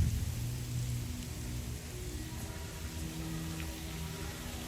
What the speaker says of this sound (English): I bet all the lizards are loving the rain.